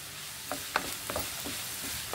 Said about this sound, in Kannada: ಈಗ ಕ್ಯಾಪ್ಸಿಕಮ್ಮು ಹಾಕ್ತಾ ಇದ್ದೀನಿ. ಅದರಲ್ಲೇ ಚೆನ್ನಾಗಿ ಫ್ರೈ ಆಗಬೇಕು.